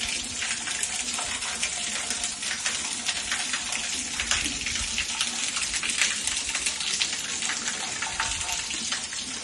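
Small garden waterfall in the yard of a two-storey house, a steady close splash and rush of falling water that runs without pause, broadband and continuous, with no voices.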